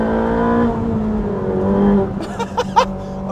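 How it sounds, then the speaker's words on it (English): A Ferrari 458 Speciale's engine under throttle on a test drive, a steady mid-pitched drone that swells, then breaks into a few sharp, rapid bursts near the end. "you can just whack the throttle open without fear of the thing turning round"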